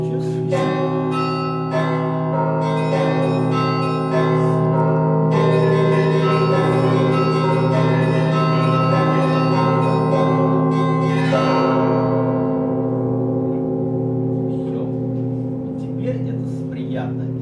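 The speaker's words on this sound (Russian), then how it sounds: "озвученную реальными звуками своих колоколов" Computer-simulated church bells, built from real recordings of the bells, ring in a loud, layered peal of repeated strikes with long resonant sustain, then fade into a lingering decay.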